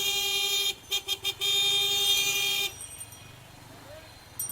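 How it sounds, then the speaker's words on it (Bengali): A GPX Demon motorcycle's horn honks loud and close: a sustained blare, a quick run of short stuttering beeps, then another long held blast before it stops and quieter street noise remains. "আমার এই বাইকের হর্নটা চেঞ্জ করতে হবে, ঘোড়ার ডিমের হর্নটাই ভালো লাগে না।"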